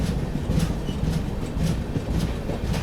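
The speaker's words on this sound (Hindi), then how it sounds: "अभी अपनी ट्रेन स्किप कर रही है कांपुई रेलवे स्टेशन।" The Guwahati–Sairang express runs steadily through a hilly route past Kanpui railway station, its wheels giving a continuous rumbling clickety-clack with regular rhythmic beats, loud and close, heard alone without talk.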